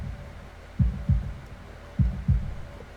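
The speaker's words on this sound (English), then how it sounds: "The sound of heartbeats" Heartbeat sound effect from the visual novel game Katawa Shoujo: two pairs of deep, low thumping beats, each pair a quick lub-dub, over a faint steady hum.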